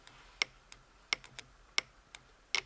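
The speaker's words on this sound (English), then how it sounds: "fuel pump like attempting to start, but it's not starting" A Porsche 944 fuel pump tries to start but fails, giving a faint series of sharp ticks and clicks at uneven intervals, with quiet background hiss between them.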